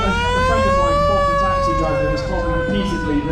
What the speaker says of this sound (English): that first fire engine makes a hell of a noise for something so small